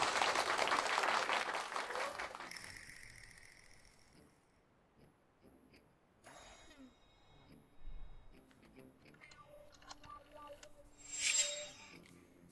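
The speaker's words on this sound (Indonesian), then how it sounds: "tepuk tangan" A burst of applause from a gathered audience fills the opening seconds, loud and dense, then breaks off into quieter mixed sounds and a few scattered noises.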